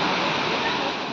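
Heavy rain pours down in a dense, steady hiss, loud and close with no breaks and no other sounds standing out.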